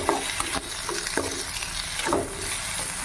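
Tomatoes for a fenugreek-leaf curry sizzle softly in a pan, with a gentle crackle and occasional scraping stirs and spatula taps nearby.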